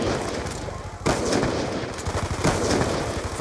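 Rapid bursts of TAC-45 gunfire in a video game rattle continuously, with heavier volleys around the one- and two-and-a-half-second marks, loud and close.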